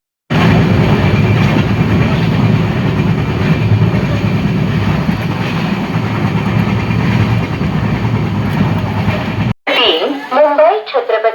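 Train moving through a railway station, with a loud continuous rumble and rolling rattle for about nine seconds before it cuts off abruptly, followed by a few seconds of nearby voices.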